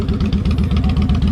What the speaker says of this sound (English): Love the sound of the motor.